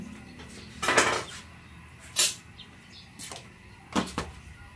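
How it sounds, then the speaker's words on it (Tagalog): Metal pan and utensil clatter while pancit canton noodles are being sautéed, with a few sharp clanks spaced irregularly over a quiet kitchen background, close and moderately loud, no talking. "mag-gisa tayo ng canton"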